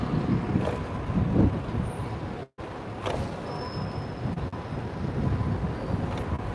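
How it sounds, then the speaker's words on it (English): Strong wind buffets an outdoor microphone in a steady, loud, broadband roar, with a brief dropout midway and faint street noise underneath. "Whoa, so windy."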